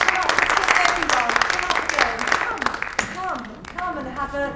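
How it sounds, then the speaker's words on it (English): An audience claps for a youth theatre troupe on stage, a busy patter of applause running under a speaking voice for the first few seconds before tapering off as talk continues. "shall we just give them another clap?"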